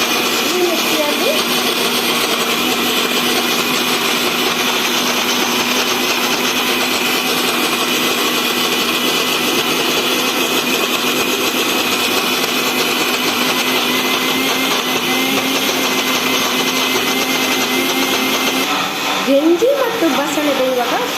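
A mixie grinds batter in a steady, loud motor whine that runs unbroken for about twenty seconds, then dips and shifts briefly near the end, with speech over it.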